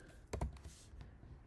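Quiet typing on a computer keyboard during a video editing session: a brief burst of several quick key clicks, then a few softer scattered taps, close but faint.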